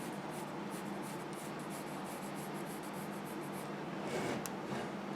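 A knife shaves and carves a piece of wood, giving a steady, close scraping with a faint repeated rhythm of strokes and no talking.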